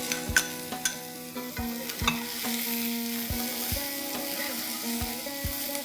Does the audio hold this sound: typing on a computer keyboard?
no